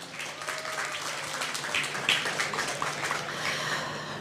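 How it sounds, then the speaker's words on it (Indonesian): Applause from a conference audience for the event sponsors at an economic forum in Indonesia, a steady moderate patter of clapping with a few sharper claps standing out. "Tepuk tangan dong buat para sponsor kita."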